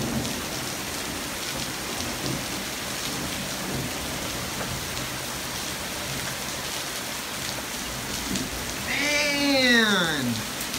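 Heavy rain pours steadily through a severe night thunderstorm, a dense, unbroken downpour with thunder rumbling beneath it; a voice exclaims briefly near the end.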